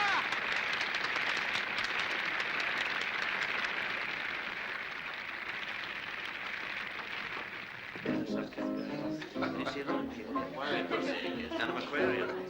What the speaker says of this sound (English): Now he claps.